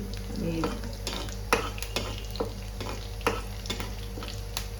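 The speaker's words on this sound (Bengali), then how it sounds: "এখানে তেজপাতা, জিরে, কাঁচা লঙ্কা ফোড়ন দিয়ে দেবো" Bay leaf, cumin and green chilli tempering sizzling in hot oil for a cabbage vegetable dish, giving a continuous close sizzle broken by regular sharp taps and scrapes of stirring.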